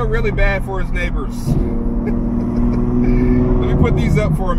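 Straight-piped Ferrari F12 V12 running close by, a quick rev blip at the start settling into a loud, rough, steady high idle.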